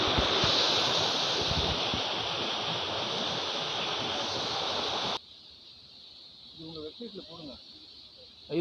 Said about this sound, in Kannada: ಇಷ್ಟು ನೀರು ಬೀಳ್ತದೆ ಮಳೆ ಇದ್ದರೂ ಬಿಟ್ಟರೂ ಮಾಮೂಲಾಗಿರ್ತದೆ